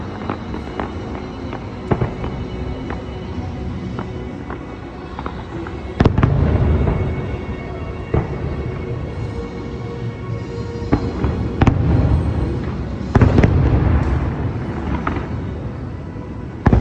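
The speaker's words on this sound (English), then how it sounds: "I shot what I thought was some really good footage of the fireworks." Fireworks at the Magic Kingdom Enchantment show crackle and pop continuously with deeper booming bursts, heard from a crowd's distance with a steady rumbling background.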